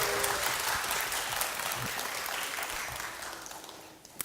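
Sustained audience applause at a children's composer recital in Uijeongbu, steady and fairly close, fading slightly toward the end with no talking over it.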